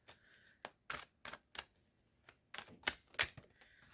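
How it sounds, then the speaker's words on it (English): A traditional tarot deck is shuffled by hand, giving a string of short, crisp riffling and slapping bursts of card stock at an uneven rhythm, close and fairly quiet, with no talking. "I will shuffle. I'm just going to use the traditional deck for this."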